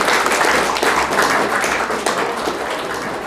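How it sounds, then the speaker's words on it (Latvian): Wedding guests applaud at a ceremony with dense, steady clapping that stays loud and even throughout, with no voices standing out. "Aplausi jā!"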